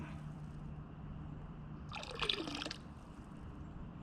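Liquid is poured out while coffee is brewed in a kayak on a swamp, a brief splashing pour lasting under a second amid a quiet outdoor background, with no one talking.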